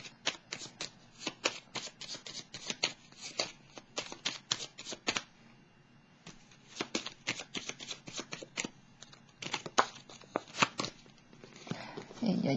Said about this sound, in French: Je vais prendre une petite carte.